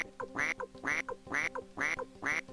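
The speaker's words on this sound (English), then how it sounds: "Hope you like the quacks." A duck in the video game Suikoden II quacks five times in a steady, evenly spaced rhythm, clear and close, with no speech over it.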